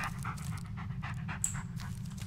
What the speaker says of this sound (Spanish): Me encanta este perro.